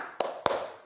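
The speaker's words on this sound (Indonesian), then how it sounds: "Ayo coba kita sama-sama tepuk semangat ya" Two sharp, close hand claps spaced about a quarter second apart, from a class of children doing a rhythmic clapping chant.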